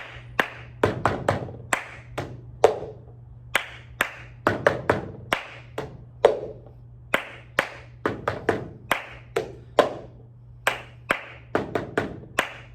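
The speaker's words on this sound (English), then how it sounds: "Clap, clap, tap the cup. Do that 4 times in a row." Hands clapping and tapping a cup in a classroom cup-rhythm game, crisp percussive hits repeating in a steady clap-clap-tap pattern, close and clear over a faint low hum.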